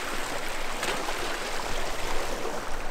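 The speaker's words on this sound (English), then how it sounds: "Here's a river crossing for you." A river at a hiking crossing in wintry Torridon rushes in a steady, broad hiss of flowing water that fills the whole stretch with no talking.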